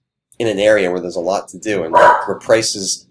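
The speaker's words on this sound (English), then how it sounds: "sorry, that's my dog barking" A dog barks several times at a rural property for sale in Newport, Tennessee, the barks mixed in beneath someone talking continuously up close.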